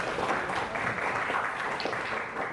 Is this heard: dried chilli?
no